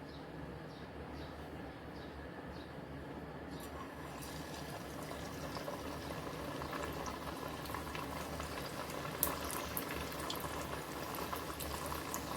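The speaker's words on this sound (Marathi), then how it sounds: "आता आपण तेल तापत ठेवलेलं आहे" Mini noodle veggie samosas fry in hot oil over a low gas flame, giving a steady, dense bubbling hiss that runs unbroken throughout and swells slightly toward the end.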